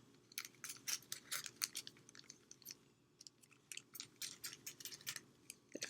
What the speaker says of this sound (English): I'm just going to use my scissors to cut it around the sides.